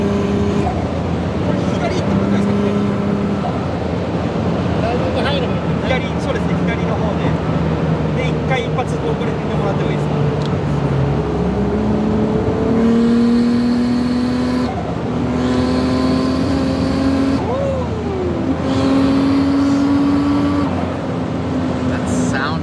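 A 400hp Toyota 2JZ-swapped Mercedes 450SLC sleeper, its straight-six engine droning steadily and rising through revs, close and loud, with gear changes audible as pitch drops and climbs.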